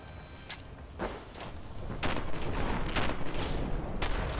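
Turret gunfire in the video game Fallout 4: a series of sharp shots about every half second, growing louder and denser over a steady hum of game ambience, with no talk.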